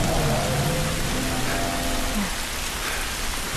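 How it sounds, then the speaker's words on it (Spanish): Steady heavy rain hiss in the video game The Last of Us Remastered fills the clip, with faint tonal sounds drifting underneath, continuous and fairly loud. "Cuidado con la lluvia."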